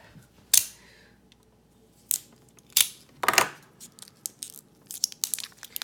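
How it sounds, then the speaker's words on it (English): A knife slices open the plastic packaging of a RENPHO smart weight scale: a few sharp tearing rips separated by quiet pauses, then a quicker cluster of small crinkling cuts, close and fairly quiet. "Let me get my knife to cut open the packaging."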